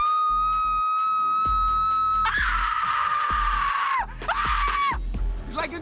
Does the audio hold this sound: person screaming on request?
yes